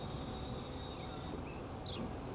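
A train winding slowly into a station in Transport Fever 2, a faint, continuous low rumble with a thin high tone and brief squeal-like chirps above it, and no speech.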